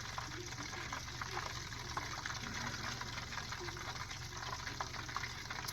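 McDonald's-style copycat hash browns frying in a covered pan, giving a steady, soft sizzle and crackle that holds even throughout with no talking over it.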